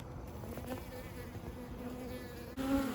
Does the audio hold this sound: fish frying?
no